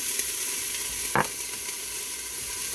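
Red peppers sauté in a hot pan, a close, even hiss of sizzling with one short scrape of stirring midway.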